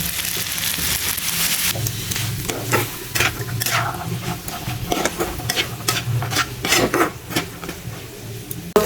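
Chickpeas and partly boiled potato frying in a pan while being stirred, giving a steady sizzle broken by frequent scraping and clinking of a utensil against the pan, close and continuous with no speech.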